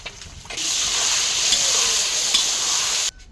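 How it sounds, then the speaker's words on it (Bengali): Eggs frying in mustard oil in a wok give a steady, close, loud sizzle that starts abruptly and runs for about two and a half seconds before cutting off, with a few faint clicks at the start and end. "ডিমগুলো ভেজে নিচ্ছি, তুলে নিচ্ছি"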